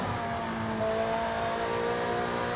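Ferrari F8 with a twin-turbo 3.9 litre engine in Forza Horizon 5, holding a steady revving drone with a slight rise midway, moderately loud and uninterrupted by voices.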